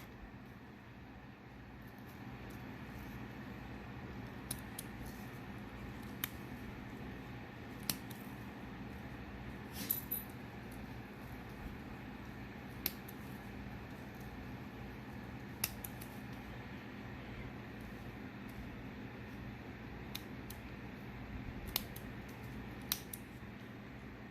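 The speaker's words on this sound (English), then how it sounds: "I'm just going to come through here and I'm going to cut each one of these off." Scissors snip leaves off a Bloodgood Japanese maple during defoliation, giving sparse, faint, irregular clicks over a steady outdoor background hum.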